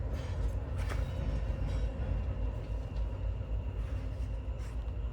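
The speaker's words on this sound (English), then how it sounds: "Oh my goodness. Is that a train?" A steady low rumble of a train rolling past nearby, heavy and continuous, with faint metallic clatter on top.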